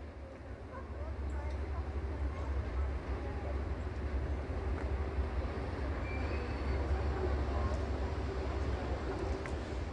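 A DB V60 diesel locomotive pulls a museum train into Welzheim station on the Wieslaufbahn, giving a continuous low rolling rumble with faint rail clatter that stays fairly even from start to finish.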